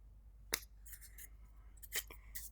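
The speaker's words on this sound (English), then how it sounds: "Snip off some edges." Scissors snip paper edges in a few sharp, separate cuts, close up and quiet against a soft background hum.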